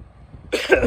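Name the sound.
cough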